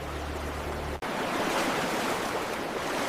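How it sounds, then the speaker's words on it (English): Loud, steady rushing water of a raging river current, a continuous broadband roar with a brief cutout near the one-second mark before the torrent resumes unbroken. "Next came the raging river, where he had to abandon his horse and brave the currents alone."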